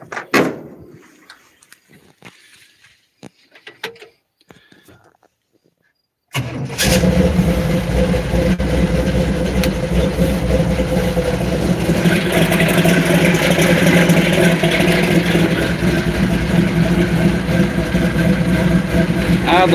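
Candy Kane's race car engine cranks and fires up loudly partway through, then settles into a steady, rumbling idle of about 900 rpm before the No Name Nationals; faint handling noises come first.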